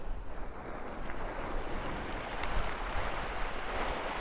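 Sea waves wash continuously onto a beach, a broad rushing surf mixed with wind buffeting the microphone, steady and fairly close with no talking.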